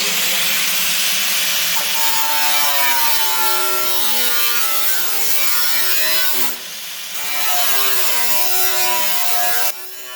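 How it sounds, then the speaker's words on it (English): An angle grinder cuts metal on a rusty car fender, a loud harsh whine that rises and falls in pitch, dipping briefly before resuming. "I had to use the angle grinder to cut away some of the metal that was in behind it"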